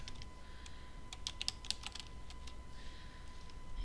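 Quiet, close computer keyboard typing: a quick run of light key clicks, then a few scattered taps.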